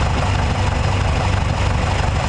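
A Triumph TR3 engine idles on the fuel left in the carburettor bowl while the fuel pump fails to deliver, a loud, steady, close rumble with no voices.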